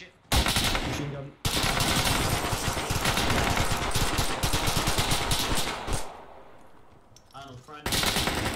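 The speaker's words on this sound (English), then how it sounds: "Machine gun." Sustained machine gun fire from a battle in the Arma 3 military game, loud dense rapid bursts running for several seconds, dipping briefly before another burst resumes near the end.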